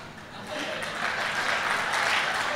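Audience at a Tamil comedy debate show claps in a dense, continuous burst of applause that builds slightly and holds steady throughout.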